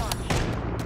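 Quick gunfire cracks in Call of Duty Modern Warfare III as a few close, loud shots sound in a burst over a dense game soundscape.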